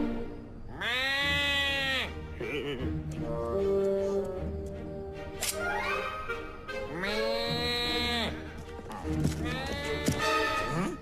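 A man imitates a goat with drawn-out wavering bleats, repeated several times close up, with animal-like cries and other voices mixed in between.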